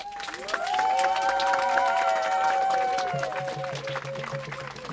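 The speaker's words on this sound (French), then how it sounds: "On peut les applaudir." Crowd applause at an outdoor church blessing ceremony in Ars, honouring volunteer organists. The clapping is steady and fairly loud for several seconds, with sustained tones running underneath and a low hum near the end.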